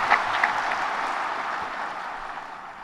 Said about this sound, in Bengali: জোরে হাততালি দিয়ে অভিনন্দন জানাচ্ছি।